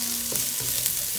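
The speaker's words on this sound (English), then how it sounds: "All of the spices have started to get nice and toasty." Cumin, ginger and garlic toasting in a hot pan for a lentil stew, giving a brief, steady, close sizzle with faint stirring, no talk.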